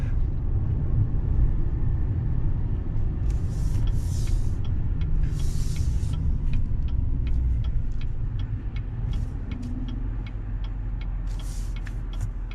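A Chevrolet Silverado 3500HD dually with a Duramax diesel engine revs hard while driving, a loud steady low roar heard from the cab, with faint ticking and clicks over the top.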